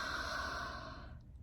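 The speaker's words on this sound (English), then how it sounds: "We're going to take 3 deep breaths." Slow deep breathing from a guided relaxation exercise, one long steady airy exhale that fades away, close and soft with no talking.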